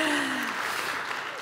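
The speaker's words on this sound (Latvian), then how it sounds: "Neveikli jau pašiem prasīt aplausus, bet varbūt aplaudēsim par to." Audience applause at a Latvian forum event, a dense wash of clapping that starts loud and holds steady, tapering only slightly over a short stretch with no voices over it.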